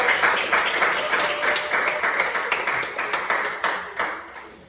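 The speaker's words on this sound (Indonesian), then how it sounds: "kalau pas beri aplaus buat kelompok sepak bola" A classroom group claps for a student football group during a geography lesson, a brisk round of many hands with repeated rhythmic bursts that fade toward the end.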